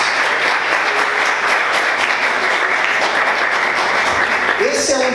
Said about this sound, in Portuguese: Aplauda ao Senhor com bastante alegria.